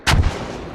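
A single mortar round fires in the military video game Squad, one sharp, loud blast followed by a short fading rumble, heard alone.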